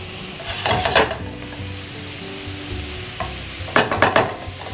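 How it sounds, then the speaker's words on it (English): Three cups of cauliflower rice sauté in oil, a loud continuous close sizzle broken by a couple of scraping stirs with a spatula against the pan. "in goes our 3 cups of cauliflower rice. We're going to saute this for about 2 minutes."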